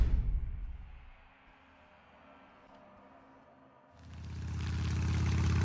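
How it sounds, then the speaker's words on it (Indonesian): A motorcycle engine in the Resident Evil 2 video game rumbles low at first, fades nearly to quiet, then swells into a loud, steady drone as the bike gets going. "Oh, suara motor. Nice, dia naik motor nih."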